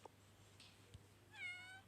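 A house cat gives a single short meow near the end, faint and close, after a couple of soft thumps in a quiet indoor room.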